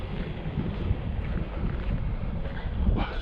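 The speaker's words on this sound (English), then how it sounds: "So windy." Strong outdoor wind at an RC car ramp session buffets the microphone with a continuous low, rumbling roar and gusty surges, with no voices.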